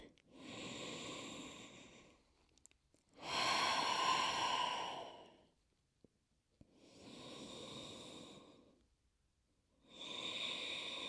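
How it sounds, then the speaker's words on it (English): Slow, deep yoga breaths taken while lying belly-down, with long audible inhales and exhales that alternate with quiet pauses, close and fairly soft. "Take 3 rounds of breath."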